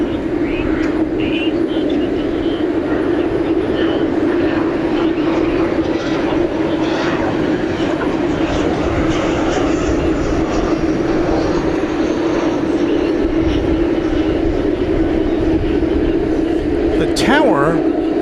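Jet engines roar continuously as planes take off at DFW Airport at night, a loud, steady rumble heard from a distance with people talking over it.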